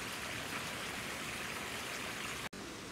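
Small cascade in a park garden, a steady broadband rush of falling water that stays constant and close throughout, with one brief dropout near the end and no voices.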